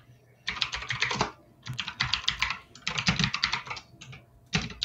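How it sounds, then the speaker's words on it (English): Rapid typing on a computer keyboard in bursts of fast key clatter separated by short pauses, close and fairly loud, with no talk over it. "Why are you typing? What are you typing?"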